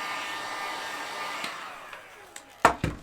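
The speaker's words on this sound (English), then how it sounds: "I am going to go ahead and pop the heat gun on this guy" A heat gun blows steadily on a painted front door decoration, a smooth airy hiss that tapers off before a few sharp clicks and knocks close at the end.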